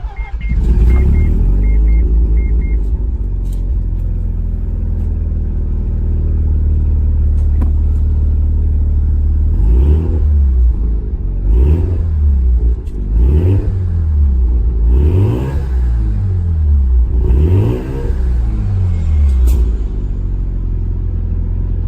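Mazda RX7 with a rotary engine driving, heard from inside the car: a loud, continuous low rumble with repeated rises and falls in revs through the latter half, and no voices.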